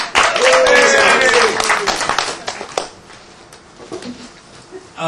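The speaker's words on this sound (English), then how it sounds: "Plenty of applause." Brief applause from a small seminar audience at an afternoon networking session, loud at the start then thinning out within about three seconds, followed by quiet room noise and faint voices.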